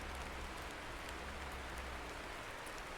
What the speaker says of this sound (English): Nice with the rain. Good touch.